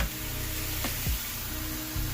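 Thinly sliced Philly cheesesteak meat sizzles loudly in a hot pan, a steady close crackle with a few brief scraping stirs.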